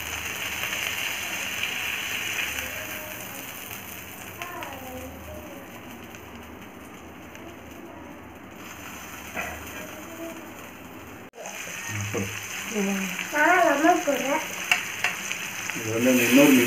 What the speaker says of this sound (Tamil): ஃபிஷ் வந்து இப்போ நல்லா ஃப்ரை ஆகிடுச்சு